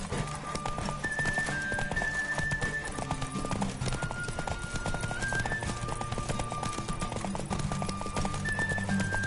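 Rapid rhythmic hoofbeats of a galloping horse in The Witcher 3 on PS4, over a busy mix of music and game sounds, steady and continuous throughout.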